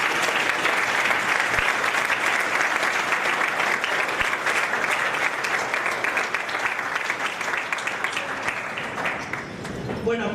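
A full room at a summer conference session breaks into sustained, dense applause for a guest, steady and loud for about ten seconds before easing slightly at the close.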